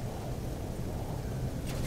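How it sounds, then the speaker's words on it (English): A thunderstorm starts up in the space exploration game No Man's Sky, with a low, steady rumble of thunder and rain filling the scene, ending in a brief sharp crackle. "Alright, I thought a storm was starting."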